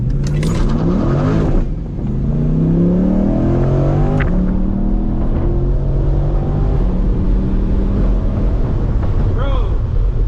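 Tuned C8 Corvette launching at full throttle, engine note climbing loudly through rising revs with a brief dip at a shift, then pulling hard and steady; voices talk over it.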